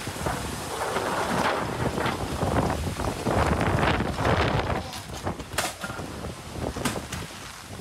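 Strong typhoon wind in Tokyo roars and buffets the microphone in heavy, surging gusts, loud and rough, easing slightly near the end with sharp bursts of wind noise.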